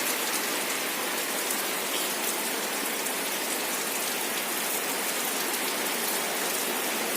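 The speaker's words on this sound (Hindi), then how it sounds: "ज़्यादा नहीं तो फिर भी बहुत जोर से हो रही है बारिश।" Heavy rain pours down steadily and loudly as a dense, unbroken hiss of falling drops, with no voices over it.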